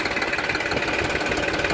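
A Powertrac Euro 50 three-cylinder tractor, around 3000 cc, runs in low gear with a steady, rhythmic diesel chug and knock, close and continuous.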